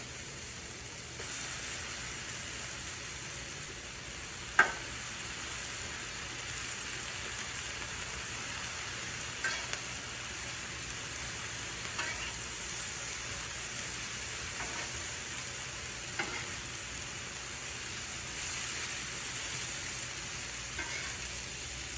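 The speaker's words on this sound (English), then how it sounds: "Let's put our pasta in." Pasta frying steadily on a Blackstone griddle for a Cajun pasta dish, a continuous close broadband sizzle with scattered light scraping stirs and one sharp clack early on, no voices.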